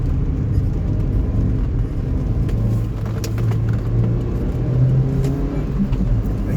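A small car with a larger-than-standard engine in its smallest body shell drives along, giving a continuous low engine rumble and road noise heard from inside, steady and fairly loud with no talking.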